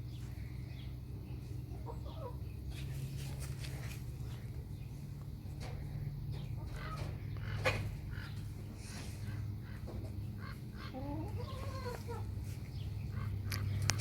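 Backyard pet chicken clucking softly in short bursts over a steady low hum, with a few brief calls scattered through the clip and no one speaking.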